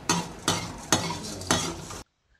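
Lentils (dal) being dry-roasted and stirred in a pan: four evenly spaced scraping, rustling strokes about half a second apart, close and moderately loud, with no voices, ending in near silence.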